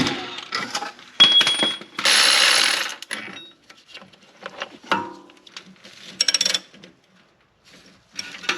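A ratchet tightens a spring compressor on a cheap, neglected luxury SUV's suspension, giving close, loud bursts of rapid clicking separated by pauses and scattered metallic clanks.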